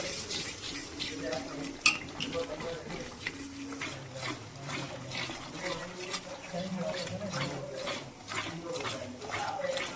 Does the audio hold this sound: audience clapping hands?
no